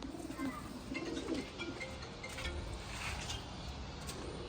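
A bird coos softly in a low, repeated rhythm amid constant outdoor background noise.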